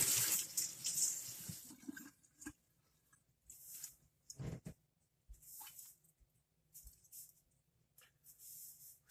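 Tap water runs into a kitchen sink during rinsing while butter tarts are being made, heard in a few separate bursts of splashing flow with quiet gaps in between, fairly close.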